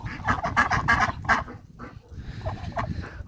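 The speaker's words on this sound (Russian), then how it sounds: "Вот красивая уточка." Ducks give a run of short, honking quacks in quick succession, close by and fairly quiet, with no talking.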